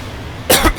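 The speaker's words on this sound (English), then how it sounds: "Sorry about the coughing." A single person coughs once, a short sharp burst with a brief second spasm, close to the microphone, after a quiet stretch of room tone while playing a game.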